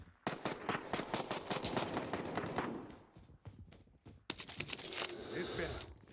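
Call of Duty gunfire, rapid bursts of sharp shots in quick succession, a pause, then another close volley, with a voice talking over parts of it.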